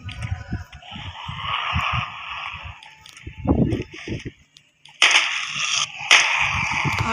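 Sharp gunshots ring out in a first-person shooter game, a rapid string of cracks and bursts over steady game ambience, with a brief lull before two loud, bright blasts near the end.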